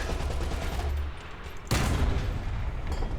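A tank's machine gun sprays rapid, continuous bursts in the War Thunder video game, a dense rattling stream with a sharp heavy crack midway as firing continues.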